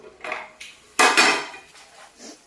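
A metal lid lifted off a pot of Kottayam-style red chilli fish curry, giving a couple of close, bright clanks and scrapes of metal on metal, then quieter rattles.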